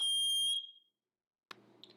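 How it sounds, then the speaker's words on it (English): A high, piercing electronic alarm tone sounds, then cuts off into silence before a faint clatter and room noise return. "that is the fire alarm"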